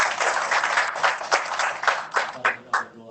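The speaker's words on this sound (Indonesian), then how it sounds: "kasih tepuk tangan untuk Tuhan." A church congregation claps, the applause building into sharp bursts that fade near the end, close and moderately loud.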